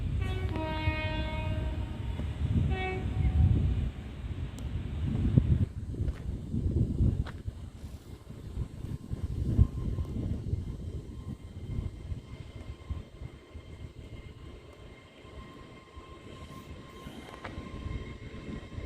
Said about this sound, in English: Now about to depart from platform 1 is the 1257 LNER Zoomer service to London King's Cross